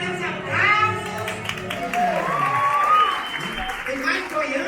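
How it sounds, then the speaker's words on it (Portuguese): An audience claps at a live show in Fortaleza, Brazil, scattered applause under excited shouting and voices, including a child, that rise and fall over the cheering. "cadê os aplausos?"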